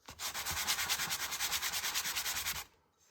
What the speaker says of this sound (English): So I just sand it.